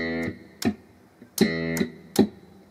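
Slap bass technique of slap, mute and strike movements: sharp percussive thumb slaps with ringing low notes and quick muted clicks, repeated in a short pattern of three groups, close and alone.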